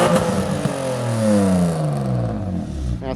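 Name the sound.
Mercedes car engine revving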